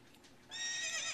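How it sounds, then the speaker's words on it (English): A horse whinnies in Zelda Ocarina of Time 3D, a bright, close neigh that starts abruptly and rings out over a faint background. "let's mount a horse"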